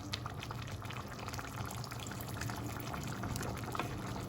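Indian chicken curry with added water simmers in a lid-covered pot, a faint, steady bubbling and soft popping that continues evenly throughout without talk.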